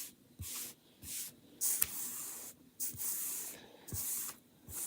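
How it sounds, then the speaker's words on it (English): Spray bottle misting water onto a chalk-painted tray, with about five short hissing bursts in an even rhythm, close and fairly quiet with light handling sounds between them. "I'm going to spray it with water one more time just to make it nice and smooth."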